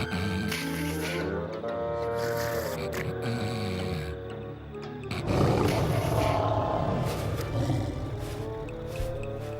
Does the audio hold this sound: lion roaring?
yes